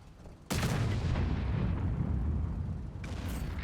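Tank cannon firing in a World of Tanks-style game: one heavy, loud blast that rolls into a long rumbling decay, then a further burst of noise near the end, with no talking.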